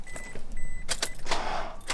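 A car's starter clicking and briefly cranking without the engine catching, a few short bursts close by in a quiet setting, with faint electrical whine between attempts.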